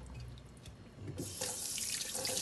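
Tap water runs steadily into a kitchen sink while fish such as mackerel, soaked in lime water, is rinsed, the flow swelling louder partway through and continuing alone with no talk.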